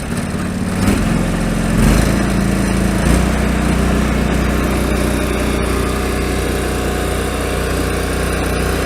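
A John Deere 445 garden tractor engine runs steady and loud close by, with a rise in throttle near the start and a continuous droning hum throughout, no talking.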